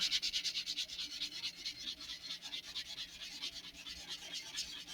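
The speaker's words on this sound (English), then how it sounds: "I'm just using circular motions on the seam to try to get rid of extra glue" Sandpaper rubs in quick circular strokes along a glued seam on an Estes Great Goblin model rocket, a steady close scratchy rasp that pulses with each pass and has no talk over it.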